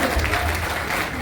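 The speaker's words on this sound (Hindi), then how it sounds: "ये वेस्ट बंगाल की टीम की तरफ से आप लोग तालियों के साथ स्वागत कीजिए।" An audience at a human rights association national conference applauds to welcome the West Bengal team, a brief burst of dense, close clapping.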